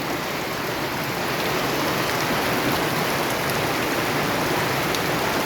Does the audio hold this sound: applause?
no